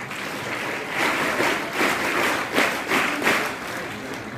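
Schoolchildren in an audience at a National Mathematics Day school event clap loudly, a continuous applause that swells in waves with rhythmic surges of clapping.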